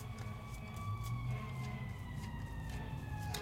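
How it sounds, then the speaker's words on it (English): Fire engine sirens pass outside, a steady wailing tone that slowly drops in pitch while staying moderately faint and distant throughout, with no talking. "There are our fire engines."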